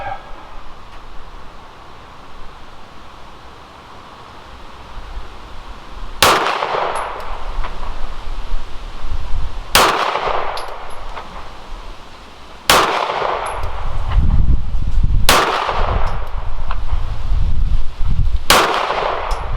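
Pistol shots from a Springfield SA-35 or WW II Hi-Power fired at a target, five sharp, loud cracks spaced a few seconds apart, each followed by a brief ringing decay over outdoor background noise.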